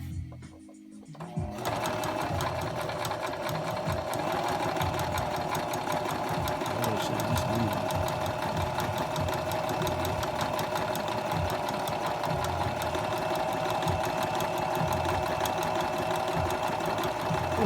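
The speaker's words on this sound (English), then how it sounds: "Then I go back over here to the sewing machine. I'm gonna sew this down." A sewing machine stitches a handmade bow tie, running steadily and loudly with a fast mechanical whir that continues without a break for the rest of the stretch after a short pause at the start.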